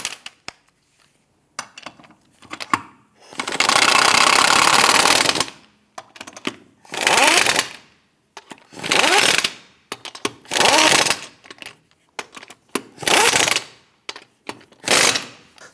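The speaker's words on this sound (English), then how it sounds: "Once you have them all started, go ahead and snug them down." An impact wrench snugging down lug nuts on a 2008-2013 Nissan Rogue front wheel, loud close rattling bursts of one to two seconds, about seven of them separated by short pauses.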